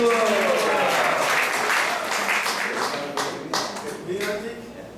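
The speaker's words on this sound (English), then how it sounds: "let's give a round of applause for Shri Mahaprabhu" Applause from a congregation at a Sunday temple class at ISKCON Atlanta, sustained clapping that fills the room and gradually thins, with voices and tonal sounds mixed in.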